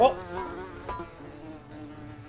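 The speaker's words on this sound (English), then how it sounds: "It's the sound of all the bees." Hornets buzz in a dense, steady swarm in the video game The Forgotten City, close and continuous throughout, with one short exclamation from a voice at the very start.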